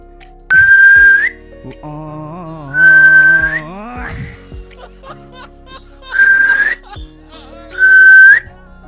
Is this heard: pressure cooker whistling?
yes